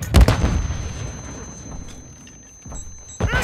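A booming grenade-like blast opens the moment in the video game Call of Duty Modern Warfare II, followed by a quieter stretch with scattered distant combat and another hard impact at the end.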